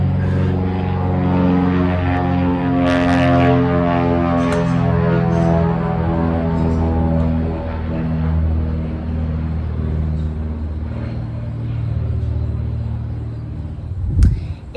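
A propeller airplane passes overhead near an airport, a steady loud droning rumble whose pitch slowly falls as it moves away, heard beside raised garden beds with a brief knock near the end.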